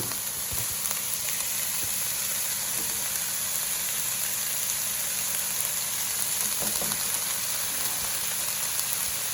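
Onions sizzling and frying in a pot, a steady dense crackle with faint stirring scrapes, continuous and close, no talking.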